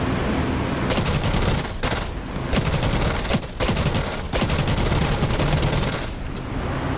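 Aircraft guns fire in bursts of rapid automatic fusillade in the DCS combat flight sim over Norway in 1943, loud and close, with short pauses between bursts.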